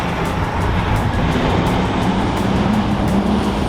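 A special edition McLaren drives past on its way into a reserve, a loud steady engine and road roar that holds for the whole stretch with no voices over it.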